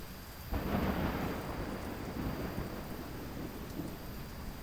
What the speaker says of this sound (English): I'm glad we're getting the storm too